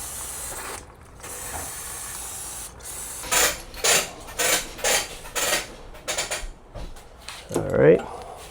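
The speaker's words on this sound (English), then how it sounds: "we're going to start cleaning the area here a little bit" A Yamaha G29 motorcycle bearing area is cleaned near an oil pan: a series of close, rhythmic spraying and scrubbing bursts, about eight in a row, ending in a louder clatter.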